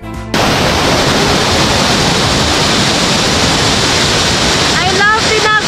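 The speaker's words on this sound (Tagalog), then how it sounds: "Its very cold waters cascading beautifully into a deep and calm basin-like pool which appears like a blue-colored lagoon." Tinago Falls, a cold-water waterfall, pours into a deep, calm basin-like pool with a loud, steady roar of rushing water that fills the scene, with faint voices near the end.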